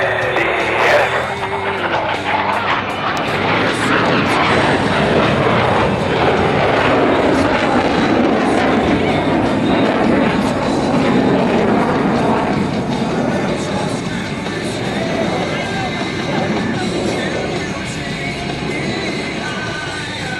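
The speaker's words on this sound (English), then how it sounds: "The 2 solo pilots are approaching to demonstrate the impressive pitch rate of the F-18." Blue Angels F-18 jets roar past at the Brunswick airshow in Maine, a loud, continuous, broadband jet rumble that swells and slowly fades across the whole stretch.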